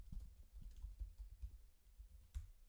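Quiet typing on a computer keyboard, a brisk run of soft key taps and clicks close by with no voices.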